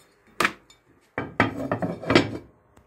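Metal lid set onto a frying pan holding pieces of flounder for crispy frying, giving a few sharp clattering knocks and a short rattling scrape, close and alone.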